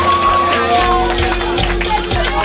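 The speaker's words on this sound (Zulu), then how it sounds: "ngicela nikushayele ihlombe lokho" A crowd at an uMemulo after-party claps and cheers in a steady, busy wash of applause, with voices and shouts mixed throughout.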